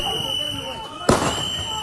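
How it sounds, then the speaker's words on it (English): A single sharp, loud gunshot cracks out about midway through, over a steady background hum and faint talking. "There's the gunshot."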